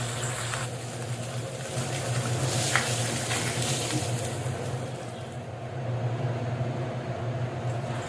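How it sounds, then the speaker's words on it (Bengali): Rohu fish pieces frying in hot oil under a lid give a steady, dense sizzle that stays close and even, with a faint low hum beneath and no voices. "সব সময় ঢাকনা দিয়ে ঢেকে মাছগুলো ভেজে নেবেন"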